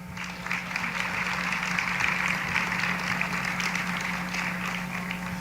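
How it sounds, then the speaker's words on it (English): An audience at a live-streamed athletics awards show claps steadily for an arriving student-athlete, a dense continuous round of applause at even volume with a steady hum beneath it. "You guys got to keep clapping."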